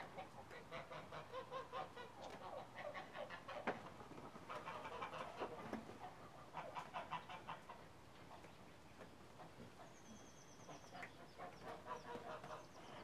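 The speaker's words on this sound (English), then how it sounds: "I've always enjoyed being in the company of ducks" Waterfowl near a farm pond behind a homestead's back porch, repeated nasal honks and quacks in rhythmic bursts, several birds calling at a moderate distance with short pauses between volleys and no talking.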